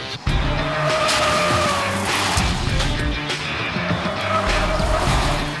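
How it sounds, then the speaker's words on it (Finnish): Citroen C5 Aircross SUV driven hard through sharp turns, a steady loud engine and road roar with a brief tyre squeal, continuous and close throughout. "Otetaan tähän kohtaan pari terävämpää kierrosta ja katsotaan, miten Citroen C5 Aircross käyttäytyy sitä ääritilanteessa."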